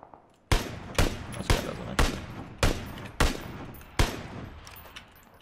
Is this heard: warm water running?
no